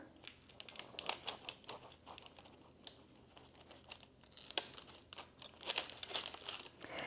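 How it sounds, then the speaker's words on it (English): A knife cuts through the crust of a cooled ham and cheese Hot Pocket, giving quiet, irregular crackly crunches and crinkles, close and faint, with no talking. "I have a knife, I'm just gonna cut this one open."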